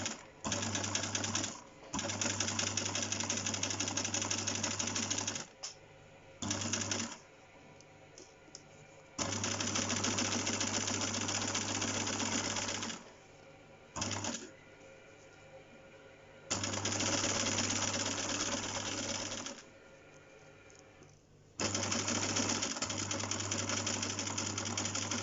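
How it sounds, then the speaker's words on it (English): A sewing machine with a zipper foot stitches a folded fabric edge close to zip teeth, running in loud steady bursts of a few seconds separated by short pauses. "So we're going to sew this folded edge very close to the zip teeth."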